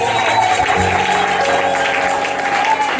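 A church congregation claps together in a steady, dense round of applause lasting the whole moment, with faint voices mixed in.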